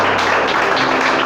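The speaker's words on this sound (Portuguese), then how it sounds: "Pode aplaudir, glorificar, exaltar." Church congregation applauding during a worship service, a steady dense wash of clapping that fills the short moment at close range with no clear pauses.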